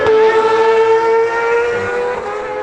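A race car in a hill climb race at Pau Arnos roars past close by with a loud, sustained high-pitched engine whine that holds steady and then slowly fades.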